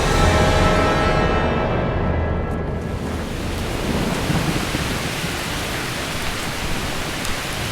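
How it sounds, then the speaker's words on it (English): Loud prairie storm with rushing wind, a deep rumble of thunder and heavy rain pouring down, a dense roar that stays strong throughout with no voices. "The rain's coming in."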